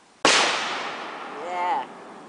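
A home fireworks tube fires with a sharp burst, followed by a long crackling, echoing tail that rings off nearby woods, then a rising whistle near the end; a single launch rather than a full sequence.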